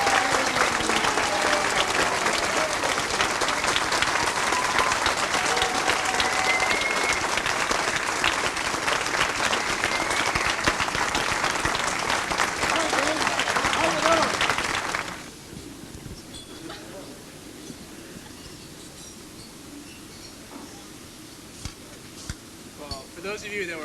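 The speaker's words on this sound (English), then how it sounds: "Let's hear it. Big round of applause." Wedding reception guests applaud the newly announced couple with loud, dense clapping and some cheering that lasts about fifteen seconds, then drops off sharply to a quieter room murmur with a few scattered claps.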